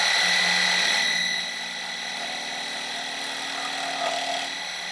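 A small power tool with a cutting blade whines at a high pitch, loud at first and then settling into a steadier, slightly quieter running hum.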